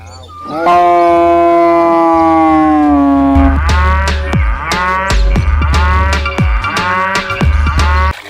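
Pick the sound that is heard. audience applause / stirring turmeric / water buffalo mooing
water buffalo mooing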